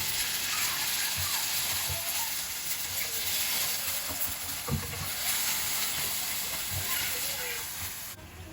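Chicken stew broth is poured into a hot pan of boiled, fried fusilli and sizzles with a steady, moderately loud hiss and small crackles, while someone talks now and then.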